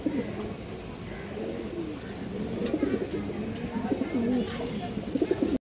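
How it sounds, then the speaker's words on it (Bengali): Large Bagha breed pigeons coo together in soft, rolling throaty calls that grow a little louder toward the end, against quiet background noise. "আর এক পেয়ার বাঘা কবুতর, বিগ সাইজের একটা বাঘা পেয়ার দর্শক।"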